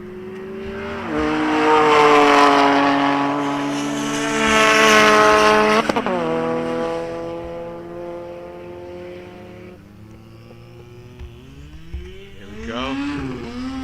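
A drag racing car does a burnout at a Sunday drag strip meet in Mkhuze. Its loud engine revs hard through rising and falling pitch sweeps, with tire squeal mixed in, over about fourteen seconds close to the microphone.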